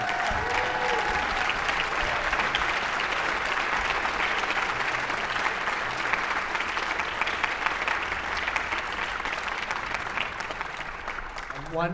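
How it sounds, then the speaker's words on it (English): A crowd at a school band winter concert gives sustained, loud applause, a dense wash of many clapping hands that stays level for the whole stretch, with faint voices mixed underneath. "how about a big round of applause for Mr. Zeiser"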